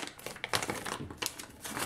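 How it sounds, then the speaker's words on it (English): Masking tape peeled away by hand from a freshly finished RANS S21 Outbound fuel tank, a run of crisp crinkling tears and short rips, close and moderately quiet, with no voices. "I'm going to take the tape away now so that I have a better seal"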